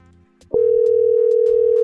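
A steady telephone dial tone hums loudly and continuously after a click as a call is placed, with a faint music bed underneath.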